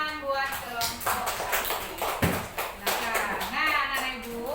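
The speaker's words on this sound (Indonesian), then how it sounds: "tepuk tangan buat kelompok" A classroom group claps in a burst of uneven applause close by, mixed with children's voices and shuffling.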